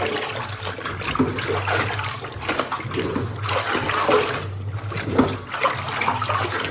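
Freshly dyed green cloth is washed in plain water, with continuous close sloshing and splashing as it is swished and worked by hand, fairly loud and without speech.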